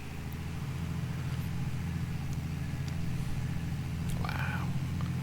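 A farm vehicle engine in Farming Simulator 22 runs steadily throughout, a continuous low drone with a brief higher whine near the end.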